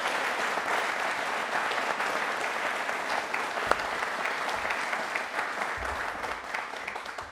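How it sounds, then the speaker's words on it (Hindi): Loud, sustained applause from a studio audience at a Republic Day quiz show, dense clapping filling the whole stretch with a single sharp knock midway. "जब दिल से तालियां बजती हैं तो तालियां एक बार जोर से होनी चाहिए।"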